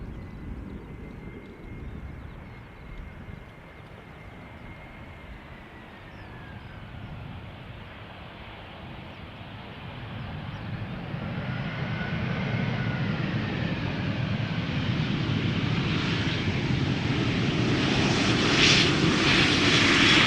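Airliner F-GTAS, a 16-year-old jet, passes at Amsterdam Schiphol Airport, its engine roar starting moderate and growing louder and nearer through the second half, rising to a strong close rumble.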